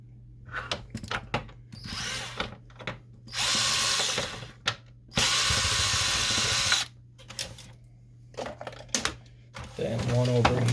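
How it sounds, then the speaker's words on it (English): Screws come out of an Epson Stylus Photo R280 printer under a power driver, which whirs in several steady bursts of a few seconds each between clicks and handling noises, with a voice speaking at times. "let's remove a screw right here"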